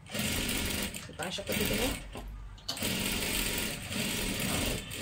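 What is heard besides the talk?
sewing machine stitching a dress neckline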